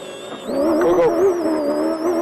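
Racing buggy engine roaring on a sand rally course, a loud, steady, high-revving drone with wavering pitch as the vehicle pushes hard, close and dominant throughout.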